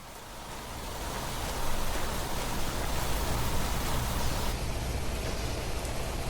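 Steady rain hisses in The Planet Crafter, a broad even wash of drops on surfaces that swells slightly after the opening second and then holds constant, with no voices.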